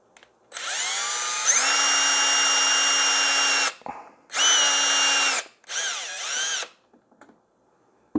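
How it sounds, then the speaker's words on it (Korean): A cordless power drill bores a hole in a kayak part for a radar reflector adapter, whirring in three close bursts, one long run and two shorter ones, separated by brief pauses, with no talk. "먼저 드릴을 이용해서 여기"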